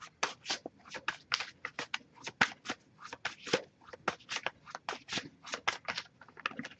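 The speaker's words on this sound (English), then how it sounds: "if I shuffle for a while without anything coming up, I'll just put the deck down and pull a card that way" A deck of tarot cards being shuffled by hand in a quiet room, giving a close, steady run of crisp riffling bursts, each lasting a fraction of a second, in an uneven rhythm with no talking.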